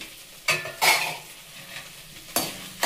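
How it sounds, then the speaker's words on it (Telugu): Dried red chillies frying over low to medium flame in a pan for gongura pickle, a soft steady sizzle with three louder bursts of stirring and spoon scraping against the pan. "వేసి మాడకుండా లో టు మీడియం ఫ్లేమ్లో బాగా వేయించండి।"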